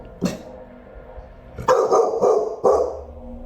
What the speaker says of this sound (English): It's just an overstimulated dog.